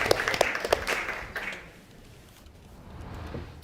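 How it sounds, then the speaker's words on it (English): Brief clapping breaks out in a courtroom, a short burst of scattered claps that quickly fades into quiet room tone. "I think he deserves a round of applause."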